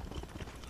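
Horse hooves clip-clopping in the Skyrim video game, a few quick muffled hoof beats in under a second, near and fairly soft.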